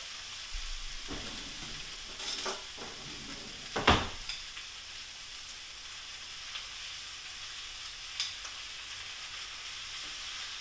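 Meat for a braised pork Marsala hits a hot pan with cabbage, giving a steady, close sizzle with a few sharper spits and clatters near the start.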